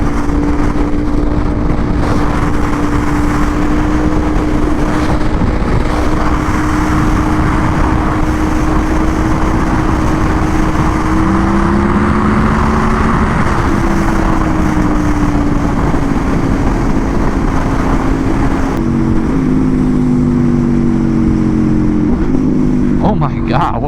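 An Aprilia RSV4 sportbike engine drones loudly and steadily through a street ride in traffic, its pitch shifting slightly as the throttle changes.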